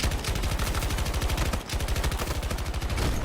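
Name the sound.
gunfire from Battlefield 2042 video game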